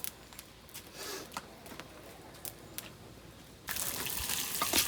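Water gushes steadily near the end as it is drained off boiled lentils and potatoes, after scattered clinks and light splashes, close by and fairly loud once it starts.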